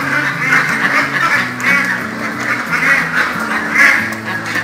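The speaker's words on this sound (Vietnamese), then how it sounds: "Cái này là vịt siêu ngỗng nè các bạn." Flock of super-goose ducks at a breeding farm in Kế Sách, Sóc Trăng, quacking loudly and continuously in close, overlapping bursts with no voices over them.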